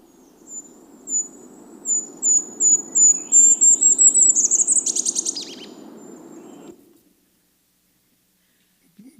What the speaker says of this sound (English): These slowed songs are what we would hear if we could hear songs just 4 times as fast as we actually do.